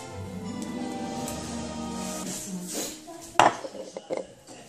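Fresh-picked strawberries are swished and rinsed in a bowl, with water sloshing, fruit knocking and a few sharp clinks of the bowl, fairly close and with no one talking.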